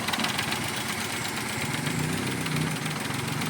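A 2017 Nissan Almera engine idles with a misfire, giving a steady, close, loud mechanical drone with a faint uneven roughness throughout and no talk.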